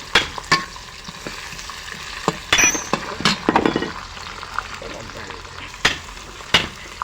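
Guava pieces for a curry go into a hot pan, making a soft background sizzle broken by sharp clinks and scrapes of a utensil against the pan.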